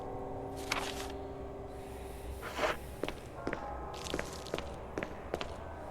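Footsteps in the Resident Evil remake, a steady run of soft thuds and scuffs from a character walking, alone over a low ambient game hum with no talk.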